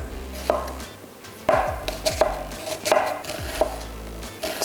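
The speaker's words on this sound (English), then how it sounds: "Right now, to start off with cutting the onion. We're gonna cut it in half. We're gonna cube these up." A knife chops an onion into cubes on a board, with a quick series of crisp, close thuds in an uneven rhythm, each cut sharp and distinct against a quiet background.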